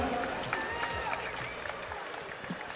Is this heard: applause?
yes